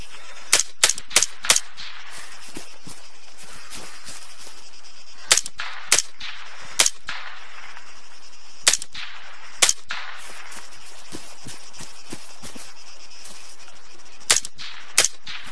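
Enemy gunfire in Arma 3, fired through trees, arrives in sharp, loud bursts of two to four cracks with quiet gaps between volleys.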